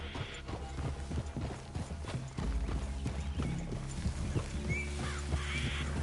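Steady clip-clop of horse hooves at a walking pace in the video game Red Dead Redemption 2, close by, with a faint snort and light rustling in the background.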